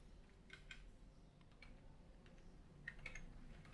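A repository name is being typed on a computer keyboard: soft, irregular key taps in short clusters, faint and close in a quiet room with no talking.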